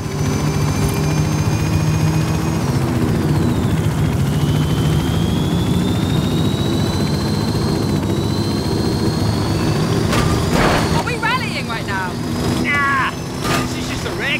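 A helicopter flies in the video game Forza Horizon 5 with a steady, loud rotor and engine drone that holds throughout, while voices talk over it near the end.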